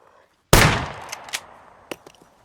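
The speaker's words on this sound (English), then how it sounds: "Let's try out the old shotgun." A single loud shotgun blast in the video game SCUM, sudden and booming, with a ringing tail that fades over about a second and a few smaller clicks and thuds afterward.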